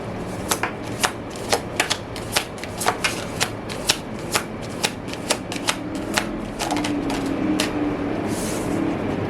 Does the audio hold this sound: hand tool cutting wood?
no